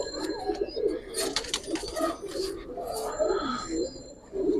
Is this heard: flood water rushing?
no